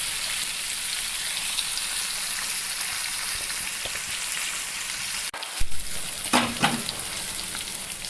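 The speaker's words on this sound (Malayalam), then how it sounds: "ഇനി ഇപ്പം നല്ലവണ്ണം എണ്ണ തിളച്ച് കയറി" Pickle ingredients frying in hot oil in a pan over medium heat give a steady, dense sizzle throughout, briefly interrupted by a sharp clatter near the end before the crackling surges back.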